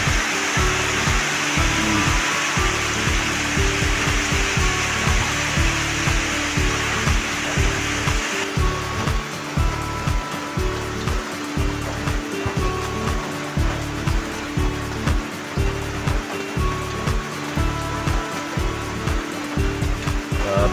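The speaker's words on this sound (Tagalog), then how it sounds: "malakas din ang ulan dito" Steady, loud broadband roar of heavy typhoon rain pouring down, with rhythmic low thumps underneath throughout.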